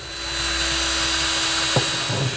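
A power drill bores a hole through the steel trunk floor of a Ford Fairmont, a steady high whine held for about two seconds, then a brief thump as the bit breaks through and the pitch drops.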